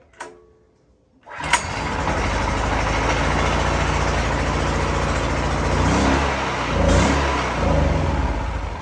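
A portable generator engine is started with a short pull, catches after about a second, and settles into a loud, steady close-up running rumble with slight surges in speed.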